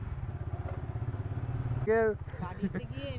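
A bike taxi motorcycle putters along with a steady low engine throb while riding, and a voice speaks briefly over the engine near the middle.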